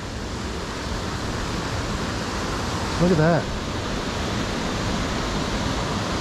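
A creek flows beside a muddy hiking trail at Laurel Falls, a steady broadband rush of water close by, with a brief spoken remark partway through.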